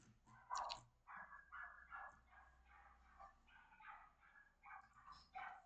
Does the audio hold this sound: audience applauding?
no